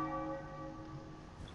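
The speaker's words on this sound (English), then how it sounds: "I don't know what the hell ringing the bell does." Ringing the Beast Bell in Dark Souls 3 gives one sustained metallic bell tone with steady overtones, clear and loud, slowly decaying with no voices over it.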